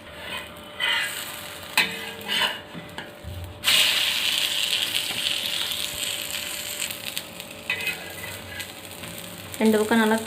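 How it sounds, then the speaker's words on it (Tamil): Beaten egg frying on bread in a pan for a bread omelette, a steady sizzle with a louder burst partway through, plus scraping and clicking of a utensil against the pan. "இந்த பக்கமும் கலந்து வச்ச முட்டையை ஊற்றிக்கலாங்க"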